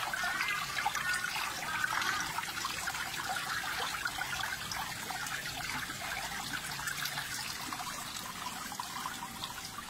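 Water curtain feature on a swimming pool in Pathum Thani, Thailand, pouring steadily into the pool with a continuous bright splashing rush, close and even throughout, with no talking.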